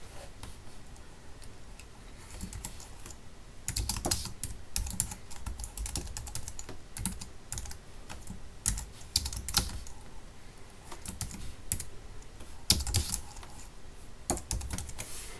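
Typing on a computer keyboard while entering commands in a Python shell: quick, uneven clusters of soft key clicks with brief pauses, close by and fairly quiet, with no talk.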